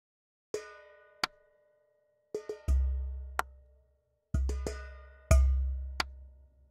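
Hand percussion samples from the Soundiron Waterharp library: sharp metallic struck hits with ringing tones, played alone in sparse groups of single and double strikes, some with a deep low thump under them.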